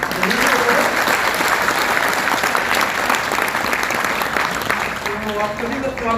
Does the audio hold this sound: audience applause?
yes